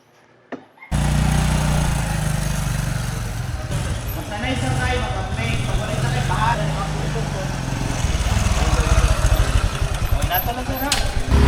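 Several motorcycle engines at a ride-hailing rider onboarding in Tagum, Davao del Norte, run and rev together continuously, loud and close, with a rough droning roar that grows a little stronger toward the end.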